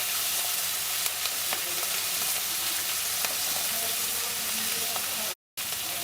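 Green chillies frying in a pan of hot oil, a loud, dense, unbroken sizzle with faint occasional pops, cut by a brief dropout near the end.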